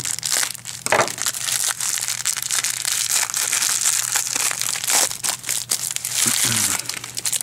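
Plastic wrap and cardboard packaging on a 2012 Core Set Magic: The Gathering fat pack being cut open. Steady crinkling and crunching rustle continues throughout, close and fairly loud, with a few sharper tearing snaps.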